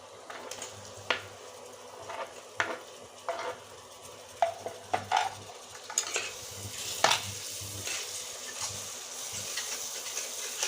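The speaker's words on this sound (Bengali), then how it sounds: "এখন মশলাগুলো সুন্দর করে কষিয়ে নেব" Chopped tomato and spices frying in oil for a chicken curry, giving a soft sizzle under repeated scrapes and clinks of a stirring spoon against the pan, close and intermittent.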